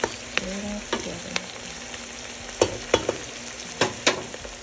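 A pork chop mixture is stirred in a pan over a low background sizzle, with a handful of sharp utensil scrapes and clinks against the pan at irregular intervals, close by and without talk.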